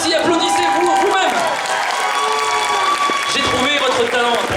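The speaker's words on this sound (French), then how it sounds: "Bravo, merci, applaudissez-vous vous-même." A concert audience applauds in a dense, steady wash of clapping while a voice and music carry over the top.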